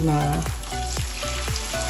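Food fries in a pan of oil with a loud, steady sizzle, close up, punctuated by several regular scraping taps of a utensil stirring or turning the pieces, with a brief tone at the start.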